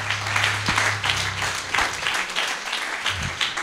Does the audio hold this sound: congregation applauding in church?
yes